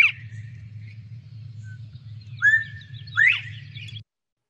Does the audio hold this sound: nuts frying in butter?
no